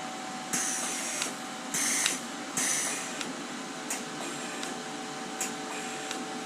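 A Harbor Freight Titanium 150 amp welder with a spool gun runs at idle, a steady electrical hum broken by several short bursts of hissing, buzzing noise that start and stop irregularly.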